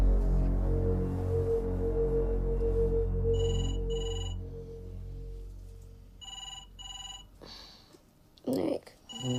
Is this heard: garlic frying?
no